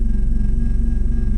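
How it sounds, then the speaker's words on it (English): A low, steady engine hum loops in a video game, a subdued rumbling drone with a slight pulsing throb, constant and moderately loud with no talking. "And it's like a low-key engine sound that's not really on, in a way."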